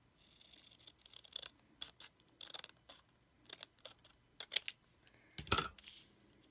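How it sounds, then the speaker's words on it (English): A string of crisp scissor snips trims paper for a card, roughly a dozen irregular close-up clicks with brief pauses between them. "let's go ahead and get some scissors and trim that off."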